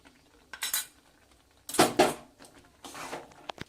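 A spoon scrapes and clinks against a metal pot as two spoonfuls of dry-roasted ground spice go into tomato pickle near the end of cooking, several sharp knocks and taps with a louder cluster in the middle.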